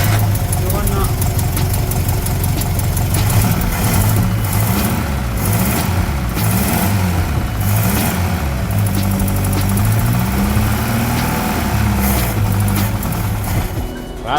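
A reconditioned Pinto engine in a Ford Capri runs at throttle, a loud, close, steady mechanical roar with a rough pulsing note throughout, and people talk over it.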